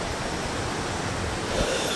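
The Sundarijal waterfall near Kathmandu roars as a steady broadband rush of falling water, loud and unbroken, with no voices.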